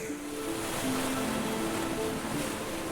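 Steady ocean surf washing onto a beach in Garut, a continuous broad roar with faint tonal hums layered underneath.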